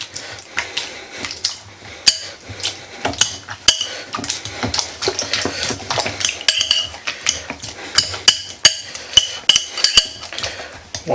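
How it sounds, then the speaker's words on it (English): Boiled potatoes are mashed with a potato masher in a pot, giving repeated irregular metallic clanks and soft squishy thuds, close and fairly loud. "just take your potato masher and you just work on getting it mashed up in there."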